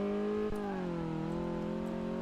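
The BMW Isetta's tiny 300 or 600cc engine accelerates in Car Mechanic Simulator 2018, a steady buzzing drone that rises slightly in pitch, heard on its own at moderate loudness.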